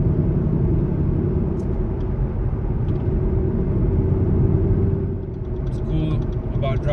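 A naturally aspirated Mustang cruises empty streets at night, its engine a steady low rumble with road noise from inside the car, dipping slightly near the end, with a voice talking over it.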